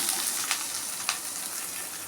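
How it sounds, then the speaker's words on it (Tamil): Green chillies fry in sesame oil in a kadai on the stove, giving a soft, steady sizzle with a couple of faint taps. The sound is fairly quiet and there is no talking. "அதில் ஒரு ஐம்பது நல்லெண்ணெய் ஊற்றிக்கிறேன் ஊற்றிட்டு மிளகாய் அதில் போட்டு"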